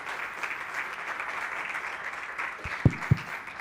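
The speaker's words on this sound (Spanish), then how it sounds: "Un aplauso." Audience applause after a talk at a symposium on neotropical carnivores, a moderate wash of clapping across the hall with a few louder, closer claps near the end.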